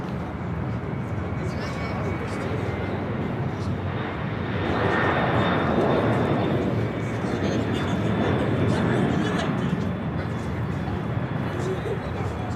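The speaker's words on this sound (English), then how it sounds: "FedEx 767 now rolling on 25 right." FedEx Boeing 767 taking off on runway 25 right, a broad jet engine roar that holds steady and swells louder midway as the aircraft rolls past at a distance, with a voice talking over it.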